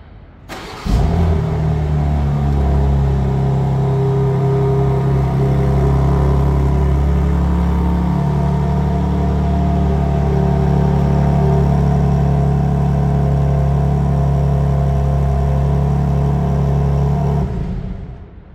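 A 2024 BMW M2 engine fires up by remote start and settles into a steady, loud, deep idle rumble that holds for about sixteen seconds before cutting off, with no voices.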